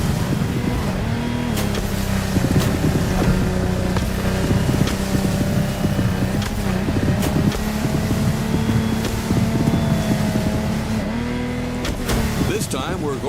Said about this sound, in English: This time we're going offshore with way bigger boats, including the incredible Lamborghini Technomar.